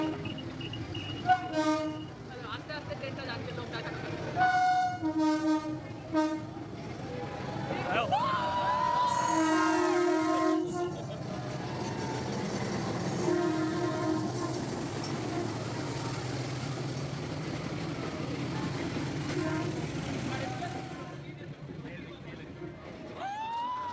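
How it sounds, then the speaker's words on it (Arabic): A train rolls along the railway squeezed through a narrow Hanoi street, its horn sounding in short blasts before a long rumbling pass, with a chattering crowd nearby throughout. "لسه شغالة ويمرق فيها القطار بهالأوقات"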